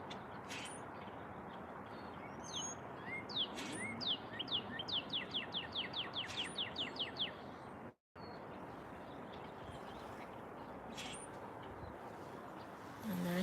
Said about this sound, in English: Wow, the birds sound beautiful.